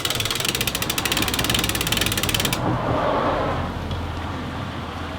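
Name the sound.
conventional fishing reel cranking while spooling braid line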